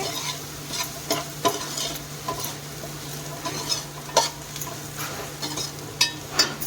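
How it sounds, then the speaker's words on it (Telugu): Spices and black pepper powder fry in a pan for chicken fried rice, a steady soft sizzle broken by repeated scraping stirs of a utensil against the pan, close and moderately loud. "1 స్పూను మిరియాల పొడి, వీటన్నింటిని ఒకసారి బాగా ఫ్రై చేసుకోవాలి."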